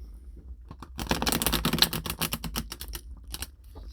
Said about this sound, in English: Shuffle it some more.